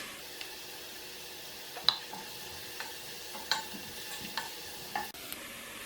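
Onion sautés in a pan with a faint, low sizzle, broken by scattered soft scrapes and taps from stirring.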